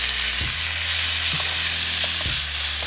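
Steak sizzling loudly on a hot surface while cooking hibachi at home, a dense continuous hiss with a few dull knocks of a utensil scattered through it, close and without talk.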